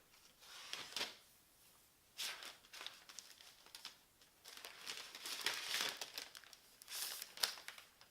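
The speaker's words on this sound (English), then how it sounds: "Now to unwrap the MacBook Pro" MacBook Pro packaging is unwrapped close up in bursts of crinkling and tearing plastic, with brief pauses between the louder rustles.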